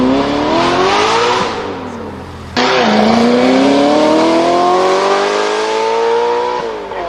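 An Audi R8 V8 sports car engine revs loudly and close, rising in pitch, dropping briefly mid-way, then climbing hard again before easing off, with no talking.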